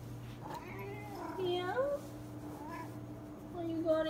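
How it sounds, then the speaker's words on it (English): A cat outside the house gives several faint, drawn-out meows spread across a few seconds, heard over a steady low hum with a person talking quietly nearby. "Hey, look, it's a cat."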